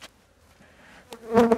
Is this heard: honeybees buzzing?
yes